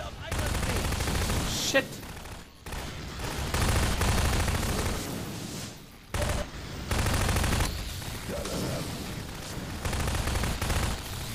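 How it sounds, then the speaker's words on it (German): Repeated loud bursts of automatic gunfire in the Half-Life 2 Episode 2 video game, filling most of the stretch with short pauses between volleys, while someone talks and swears over it. "Einfach immer ins Gesicht schießen."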